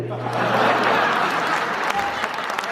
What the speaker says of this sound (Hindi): तालियां कम रह गई थोड़ी सी।